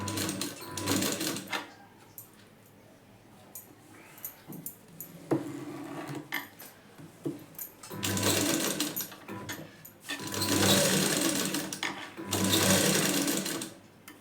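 A sewing machine stitches the lining fabric of a size 36 blouse. It runs close by in several loud bursts, with short quiet pauses between them.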